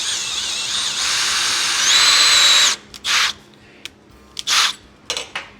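A power drill bores into a rounded part on an Ardun engine swap for a 1932 Roadster, a loud steady whine that rises in pitch, then stops and gives way to several short bursts.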